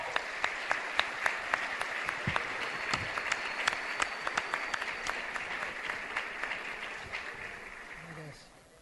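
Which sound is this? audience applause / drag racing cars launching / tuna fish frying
audience applause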